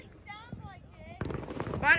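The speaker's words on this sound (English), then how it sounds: "it's fireworks" Fireworks bursting outdoors at 4th Street in Chesterton, Indiana, a run of booms and crackles getting louder toward the end, with a person talking over the start.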